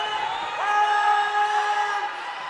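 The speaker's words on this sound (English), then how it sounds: "Crowd getting involved in this now" Crowd noise swells at a mixed netball grand final between Victoria and New South Wales, a sustained broad roar with whoops that peaks mid-way then eases slightly, heard with no clear voices on top.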